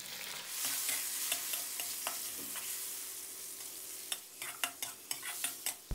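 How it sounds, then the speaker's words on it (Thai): Pork belly stir-fried in a pan, a bright hiss of sizzling oil under a series of sharp spatula scrapes and taps that quicken toward the end, close up with no voices. "ให้เราใส่หมู3ชั้นลงไปผัดให้สุกเลยครับ"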